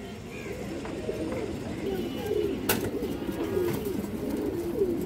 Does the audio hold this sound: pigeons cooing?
yes